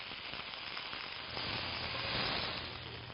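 Beef tenderloin sears in a hot pan with a steady, close sizzle and frying hiss that swells slightly midway as the meat is turned to brown on all sides, with no talking.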